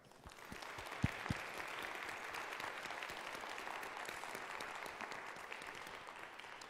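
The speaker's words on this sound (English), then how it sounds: "Let us give them all a round of applause at this time." Sustained audience applause at an academic Super Bowl event in Pike Township, a dense steady wash of clapping from a large crowd with a couple of louder individual claps near the start, fairly distant and unbroken by talk.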